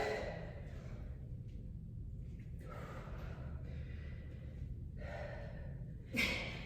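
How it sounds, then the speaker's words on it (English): Heavy breathing and panting after exercise during a lift-off foundation workout class, a steady breathy wash of exhalations over several seconds, with a sharper gasp near the end. "Heavy breathing. Closed caption, heavy breathing. Panting."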